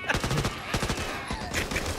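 Rapid gunfire in the Back 4 Blood video game, a dense burst of repeated shots running continuously and loudly across the moment.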